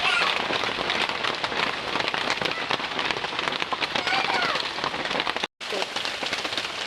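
Heavy rain pouring down in a rural home, with water dripping and leaking into the kitchen, a dense steady patter with a brief cut near the end and a voice faintly present.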